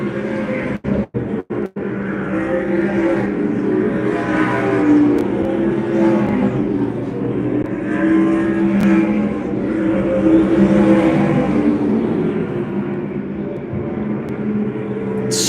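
Stock cars race around Dominion Raceway in a Grand National Super Series event, their engines roaring steadily as the pack passes in a rising and falling drone, heard from a distance at the track.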